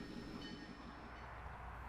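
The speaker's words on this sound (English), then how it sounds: "I've stopped at County Road East 1900 North to film this train on the return trip." A train at the Monticello Railway Museum rolls past on its return trip, a steady, fairly distant rumble of wheels and cars with no voices.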